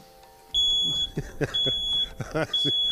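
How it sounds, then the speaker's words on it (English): A smoke alarm in a tiny house beeps in repeated high-pitched chirps at a steady interval, while a person talks and exclaims over it nearby. "It's just my smoke alarm going off."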